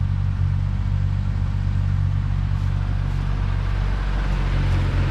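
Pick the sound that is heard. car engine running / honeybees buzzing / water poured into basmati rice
car engine running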